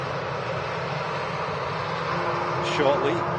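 Airliner on final approach to land at Manchester Airport, a steady broad engine roar at middle distance with a voice speaking briefly near the end.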